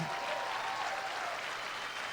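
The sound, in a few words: applause in church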